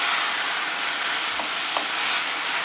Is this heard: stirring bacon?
yes